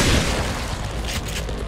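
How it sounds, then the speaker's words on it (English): A loud, sustained explosion in The Evil Within, a deep broadband boom that fills the whole moment and rumbles on without any talk. "You better explode."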